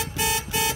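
A loud motorcycle horn blares twice in quick succession, two short, even honks close by, on a Royal Enfield Bullet with twin horns weakened by water.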